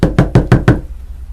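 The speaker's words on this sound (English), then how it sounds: "I heard a knock coming from the front door" Five firm knocks on a front door, evenly spaced and close, each a sharp thud with a short decay, followed by a brief quiet.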